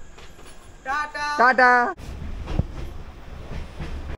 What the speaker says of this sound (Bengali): 13147 উত্তরবঙ্গ এক্সপ্রেসে আমি জার্নি করছি।